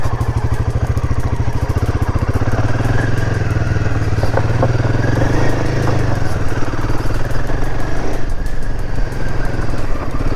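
A motorcycle rides along a road, recorded from a helmet camera, its engine a steady loud close drone with constant wind rush and slight clatter, no talk.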